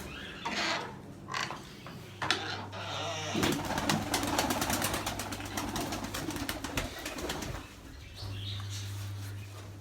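Miro pigeons coo repeatedly in a breeding loft, low throaty calls rolling on and off close by, with a steady mechanical hum underneath and occasional wing flutters and rustling.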